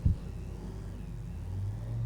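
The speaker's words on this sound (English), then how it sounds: "Love the sound of this Pontiac funny car." A loud Pontiac funny car drag-racing engine rumbles steadily and begins to rev higher toward the end, at an ANDRA Summit Sportsman Series race in Portland. A brief thump comes at the start.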